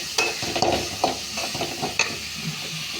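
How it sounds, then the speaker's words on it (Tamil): Ginger garlic paste sautéing in a pan for a dal dish, with steady sizzling and frying hiss, several stirring scrapes and clinks from a spoon, close and fairly loud, no talking. "இஞ்சி பூண்டு பேஸ்ட் கொஞ்சம் போட்டுக்கிறேன். லேசாக வதங்கினா கொடுப்பேன்"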